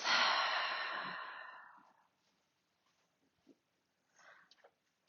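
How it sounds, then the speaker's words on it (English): Slow audible breath, a long airy exhale drawn out over about two seconds, close and soft, trailing into near silence with a few faint small noises afterward, during a calm guided yoga session. "let's take that breath in through the nose. Exhale through the mouth"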